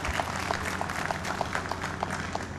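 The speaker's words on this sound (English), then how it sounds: "Ladies and gentlemen, please give them a round of applause." Seminar audience applauding as a shield is presented, a thin, steady patter of claps at moderate distance, fairly quiet and lasting a couple of seconds with no voices over it.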